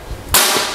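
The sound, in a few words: air rifle shot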